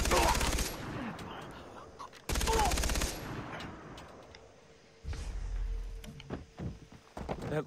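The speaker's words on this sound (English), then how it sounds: "Let's get on the mounted guns." A mounted gun firing in Far Cry 3 on Xbox 360: three separate loud bursts of rapid automatic fire, with quieter clanks, footsteps and ambience in the gaps between them.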